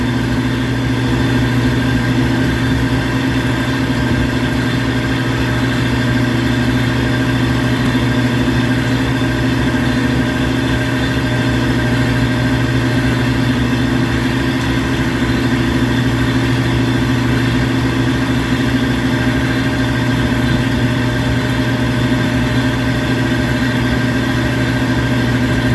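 Motor of an air-conditioning unit running during expansion valve calibration, a loud, steady, continuous hum with strong tonal drone and no change over the whole stretch.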